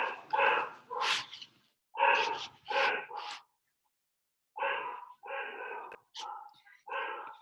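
Border collie barking in a series of sharp, separate barks, two quick groups with a short pause between, close by and fairly clear with no talk over it.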